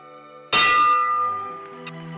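A single loud church bell strike rings out and hums on, its tone slowly decaying, with a faint second clang shortly after.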